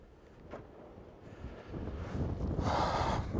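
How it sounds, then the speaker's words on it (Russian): Gusting wind on a high mountain in Armenia buffets the microphone beside a parked car, rising from soft rumbling to a strong roaring gust near the end. "Ветер то есть, то нет."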